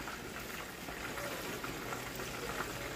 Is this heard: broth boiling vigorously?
yes